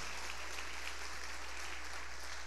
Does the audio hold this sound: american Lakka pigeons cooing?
no